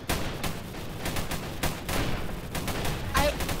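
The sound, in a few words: shotgun fire in Roblox Tower Battles video game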